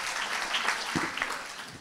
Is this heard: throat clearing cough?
no